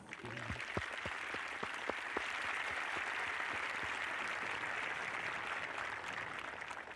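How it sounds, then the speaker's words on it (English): A crowd at a high school graduation ceremony breaks into applause, a few scattered claps swelling quickly into dense, sustained clapping that fills the room and carries on steadily. "I think we need to give this group a round of applause."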